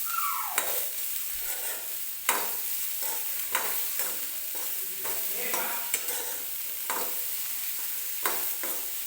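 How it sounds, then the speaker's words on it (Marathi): Sweet corn kernels roasting with salt in a pan, stirred steadily: a continuous close sizzle with sharp scraping strokes and clicks every second or two, and no talking. "मी सुरुवातीला मीठ टाकून ह्याला व्यवस्थित असं भाजून घेणार आहे."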